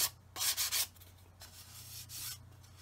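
Sandpaper rubs over sprue goo filler on a 1/48 scale model R-11 fuel tanker's tank, making a few short, close scratchy strokes in uneven bursts separated by quiet pauses.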